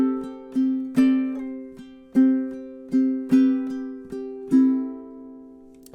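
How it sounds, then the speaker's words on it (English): Ukulele strumming measure 4 of an etude: ringing chords in a rhythmic pattern of accented down-strums and lighter strokes, clear and close, alone with no talking, the final chord decaying. "But let's go ahead and hear measure 4."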